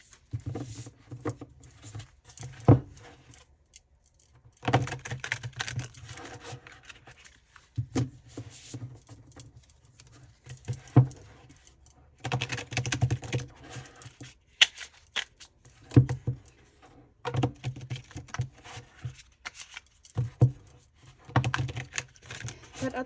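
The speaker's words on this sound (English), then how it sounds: "it might just feel better to shuffle" Soul Reflections tarot cards being shuffled face up, giving irregular papery flicks and soft riffling patters in short bursts with quiet pauses between them.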